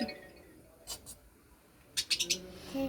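A small caged pet bird gives several brief high chirps in quick clusters indoors, while someone speaks quietly nearby.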